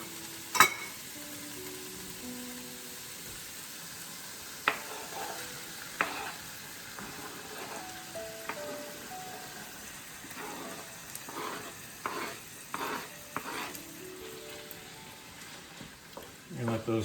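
Tomatoes frying and being stirred in a pan, a faint sizzle with scattered clicks and scraping strokes of a utensil, alongside talk.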